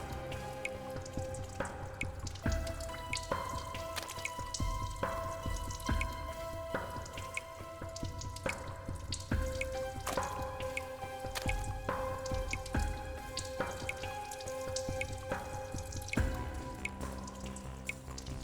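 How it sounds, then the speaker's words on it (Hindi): Water dripping indoors inside an office, steady repeated drops and tonal plinks close by with a soft squishy, wet texture throughout, no talking. "पानी कहां से टपक रहा है?"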